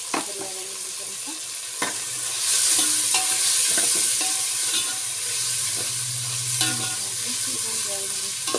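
Onions frying in oil for pulao hiss and crackle steadily up close, punctuated by spatula knocks and scrapes against the pan, with the sizzle swelling loud midway.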